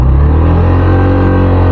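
A Hero Xpulse Pro motorcycle engine revs high in first gear toward 6000 RPM, a loud, close, sustained buzzing drone with steady harmonics and no pause, on a bike whose clutch plates burnt out within 300 km.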